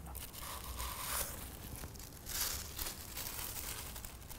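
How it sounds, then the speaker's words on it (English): Crinkly wrapping being pulled open on a small pack, a continuous soft rustle and crumple at close range with a few louder tearing swells, fairly quiet and without talk. "This is the first time I've unwrapped this little pack here."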